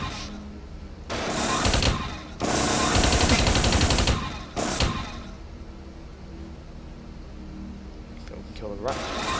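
A controlled turret in the game Deus Ex: Invisible War fires rapid automatic bursts, two or three sharp clattering volleys with a quieter electronic hum between, and a person talking over it.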